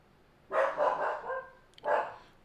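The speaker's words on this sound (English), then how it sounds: "Max just let out a little growl." Max the dog gives a little growl, a short grumbling vocal burst followed by a second briefer one, close by and moderately loud with no talk over it.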